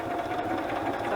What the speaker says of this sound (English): Do you guys take off your shoe when you push the pedal of your sewing machine?